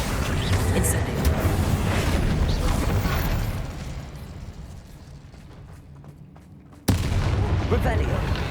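A fire spell cast in the Hogwarts Legacy video game bursts with a loud whoosh over a dense bed of game combat noise. The sound dips briefly, then returns with a sharp onset.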